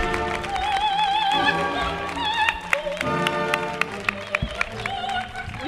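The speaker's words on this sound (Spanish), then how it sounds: "Un aplauso para ella, por favor." Studio audience at a Spanish comedy show claps in a scattered burst that builds over several seconds, with a few sharp individual claps standing out near the end as music plays underneath.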